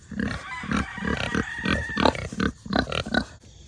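A pig grunts close by in a quick series of short, rhythmic snorts and oinks, about a dozen in a row, clear and fairly loud with no talking.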